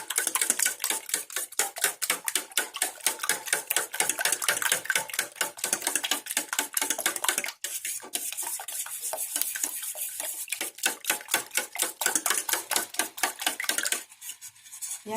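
Eggs being beaten for steamed eggs, a fast, even run of sharp clicking taps of utensil against bowl, close and loud, briefly pausing midway and near the end, no talk.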